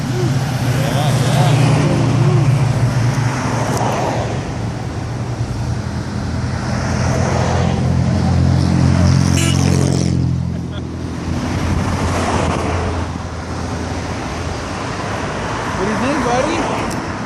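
Classic cars, including a 1969 Camaro Z28, cruise past on a road, engines rumbling loud and close in overlapping waves with a broad rushing swell midway, while an adult talks to a child over the traffic.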